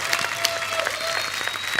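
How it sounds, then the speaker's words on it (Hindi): A studio audience on a comedy talk show applauds Chunky Panday and Shakti Kapoor with a short burst of steady group clapping, moderately loud and close, with a few sharper claps standing out. "जोरदार तालियां एक बार चंकी सर और शक्ति सर के लिए।"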